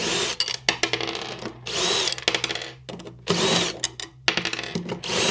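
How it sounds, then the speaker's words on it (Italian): A battery fitting is being unscrewed with a power drill, giving several loud bursts of whirring drill motor separated by short pauses, close to the microphone. "la svito da qua"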